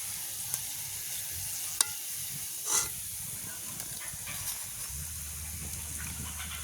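Banana vaippan fritters fry in hot oil in a village kitchen, a steady, close hiss and sizzle with a few small pops and crackles throughout.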